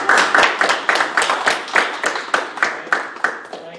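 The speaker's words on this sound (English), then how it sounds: "Full clap?" Clapping at a county zoning board of appeals meeting during a service award presentation, a small group's hands beating in a quick, even rhythm, close and clear with no talk over it.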